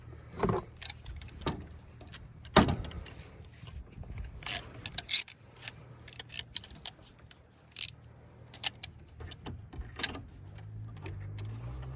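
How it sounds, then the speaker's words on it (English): A top radiator hose is worked off a Toyota 3.5L V6 2GR-FE engine, with irregular close clicks, knocks and rattling metal handling noises spread across the whole stretch and no voices. "So we'll go ahead and get this hose off."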